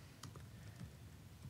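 Someone types a commit message on a computer keyboard during a version control tutorial, a few quick soft key clicks, faint and close, with no talking.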